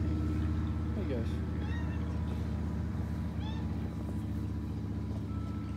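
A cat meows twice, short rising calls over a steady low engine-like drone, with a voice talking in the background.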